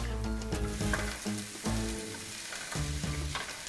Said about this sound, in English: I also have some sage that I'm gonna brown with the ghee and the chickpea, the shallots, and the garlic.